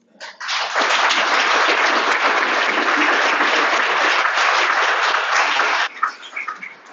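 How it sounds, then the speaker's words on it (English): A lecture audience applauds a professor in one loud, steady burst of many hands that lasts about five seconds, then cuts off sharply as a few scattered claps and small sounds trail after. "Another round of applause."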